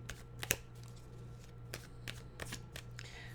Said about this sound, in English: So we'll just give it a fast shuffle here.